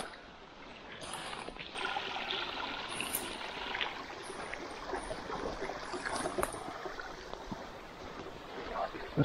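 A wild woodland stream flows steadily nearby, a continuous broadband rush of water heard alone at moderate level.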